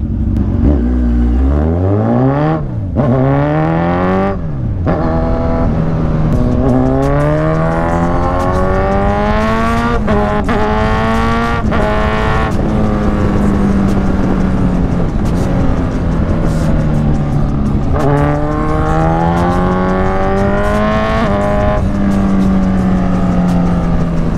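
A BYD electric sports car drives along an expressway, its synthetic exhaust-style tone rising and falling in repeated sweeping pitch climbs as it accelerates, loud and close throughout with no talk.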